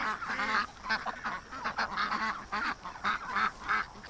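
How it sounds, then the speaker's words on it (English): Ducks at a lake honk and quack repeatedly in a nearby flock, the calls overlapping in an uneven rhythm without any talk. "let's go to the lake with the ducks here"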